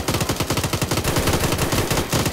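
Rapid automatic gunfire from the military shooter Arma 3, a dense, loud run of bursts that fills the whole moment with no pause.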